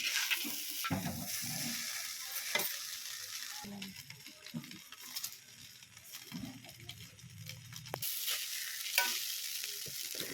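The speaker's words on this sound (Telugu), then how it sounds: "బాగా పైకి కిందకి అయితే తిప్పేసుకోవాలి ఫ్రెండ్స్" Egg fried rice with masala is tossed and stirred in a hot pan, with spatula scrapes and clinks over a soft continuous sizzle, close up and fairly quiet, with no talking.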